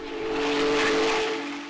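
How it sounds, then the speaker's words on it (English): The Union Pacific Big Boy 4014, a nearly 80-year-old steam locomotive, sounds its whistle in one loud, sustained blast with steady tones over a hissing wash, close and without talk. "A party rolling along with help from a nearly 80-year-old steam locomotive."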